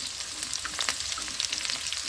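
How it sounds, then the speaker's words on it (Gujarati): Chopped onion fries with curry leaves in oil, giving a quiet, steady sizzle with faint crackles throughout. "ડુંગળીને બરાબર આપણે શેકી લેવાની છે."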